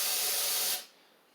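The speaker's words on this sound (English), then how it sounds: "I am going to prime it with a little bit of carb spray" Carb spray hisses in one steady burst to prime a Husqvarna YTH24V48 lawn mower engine, then cuts off abruptly, leaving faint background noise.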